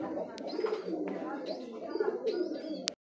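Pigeons coo in low, repeated throaty phrases close by, a restless pair of domestic birds, with faint chirps and brief voices in the background.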